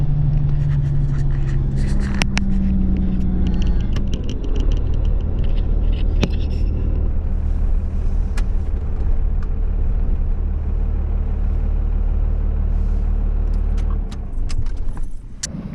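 A Cummins diesel square-body truck rolls into a gas station with a heavy, steady low engine rumble inside the cab, loud and continuous, with light rattles and jingles over it before easing off at the end.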